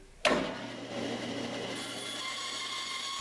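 A saw bites into wax-coated fire starter tubes with a sharp onset, then settles into a steady, continuous cutting whine and buzz that carries on loud and close without pause.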